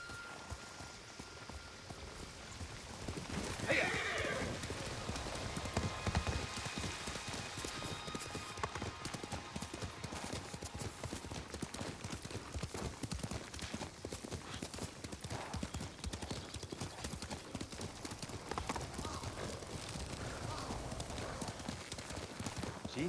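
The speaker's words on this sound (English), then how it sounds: "You're a good horse, Kage." Steady clip-clop of horse hooves at a trot in Ghost of Tsushima, with rain pattering throughout and faint game ambience, continuous and fairly close.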